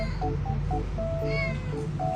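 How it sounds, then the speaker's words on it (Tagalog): A cat meows softly, a couple of thin, weak mews over a low steady background hum, close by. "Ang hina lang din mag-meow ni Casper, hindi tulad ni Chloe na pagkalakas ng boses"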